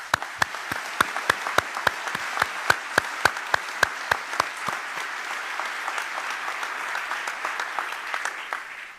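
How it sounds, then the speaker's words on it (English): An audience applauding at a Eucom military ceremony, opening with a slow, rhythmic unison beat of loud claps that dissolves into looser, sustained applause before it tapers off. "let's have a round of applause for the incredible work that Eucom is doing"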